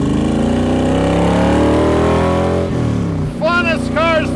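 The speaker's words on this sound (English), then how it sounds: "Let's go for riding the Cobra. Factory 5 here, guys. Mark IV, rebuilt 302." A Factory Five Mark IV Cobra replica with a rebuilt 302 V8 rumbles loudly up close, its deep harmonic engine note holding steady then shifting pitch as revs change, with a voice breaking in near the end.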